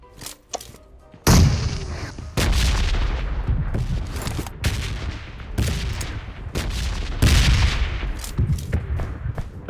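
Rapid bursts of gunfire from PUBG Mobile, loud sharp shots and volleys cutting in and out repeatedly against a low rumble.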